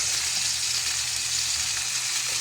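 Food cooking in a hot pan, a loud, dense sizzle of hissing oil that stays steady and close for the whole stretch.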